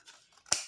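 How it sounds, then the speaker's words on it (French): A single quick, crisp scissors snip cuts paper near the end of a short, quiet moment in a craft tutorial for a cardboard Advent calendar carousel turntable. "vous prenez des ciseaux et vous faites des petites tailles comme ceci"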